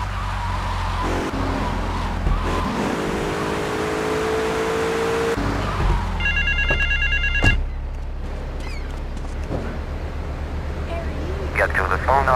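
A telephone rings with a short electronic trill in Grand Theft Auto 3, heard over steady car engine rumble and road noise in the game.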